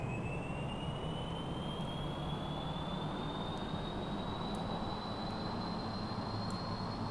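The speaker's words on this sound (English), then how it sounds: "Activate the jet engine." A jet engine spins up in the video game Kerbal Space Program, a steady, dense roar with a thin whine climbing slowly in pitch across the whole stretch, constant and loud with no talking.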